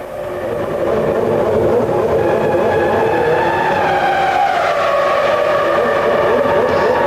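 A Formula One car engine during practice at the 2002 Spanish Grand Prix howls continuously at high revs, its pitch climbing and shifting over several seconds as the car passes through the first corner.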